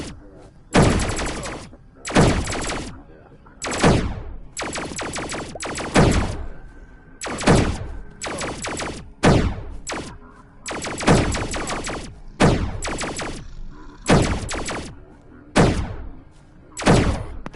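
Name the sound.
enemy rifle gunfire in Cubic Odyssey video game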